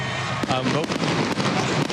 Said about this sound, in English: Mookie, it's fireworks night here in Atlanta